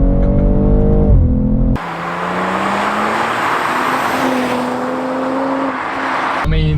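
A BMW G42 M240i engine pulls while driving around town at low speed, giving a close, steady drone whose pitch climbs as it gains revs, with no talking over it.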